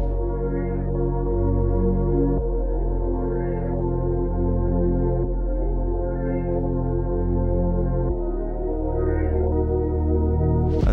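Dark melodic hip-hop beat with layered synth melodies over a deep Omnisphere growling Moog-style bass, steady and loud, with chord changes every couple of seconds and no voices.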